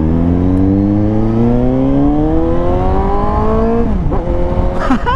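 A Suzuki GSX-S750 750 naked motorcycle accelerating through city streets, engine pitch climbing steadily through a loud close run, then dropping briefly at a gear change before pulling again.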